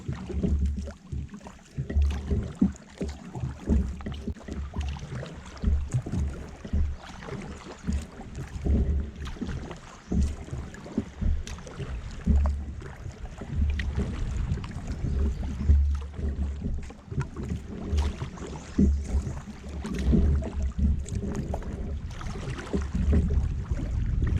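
A kayak drifts down gentle rapids on the Little Miami River, with steady rushing water and a low rumble of current, plus scattered knocks and splashes close by throughout.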